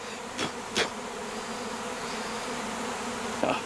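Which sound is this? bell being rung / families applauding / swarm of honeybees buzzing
swarm of honeybees buzzing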